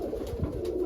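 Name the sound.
pigeons cooing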